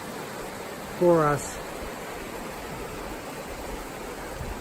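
Mission Creek flowing steadily nearby on a morning trek, a soft continuous rushing wash heard throughout, with a brief spoken phrase over it near the start.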